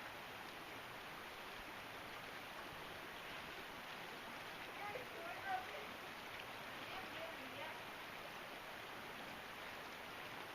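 Fast-moving creek water on the Manistee River rushes in a steady, broadband wash from start to finish, a continuous moderately loud flow with no breaks and no voices.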